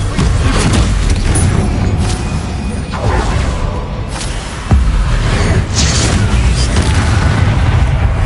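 Booming blasts from the Bombarda spell in Hogwarts Legacy, several heavy explosive thuds with whooshes, loud and close amid continuous game noise.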